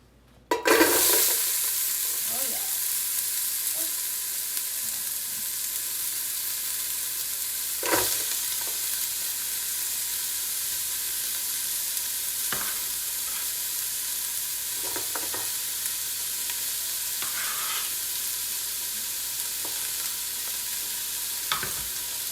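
Sliced yellow onion frying in oil in a pan, a steady broad sizzle hiss holding throughout, broken by a few faint clinks and stirring scrapes at intervals, close and without talk.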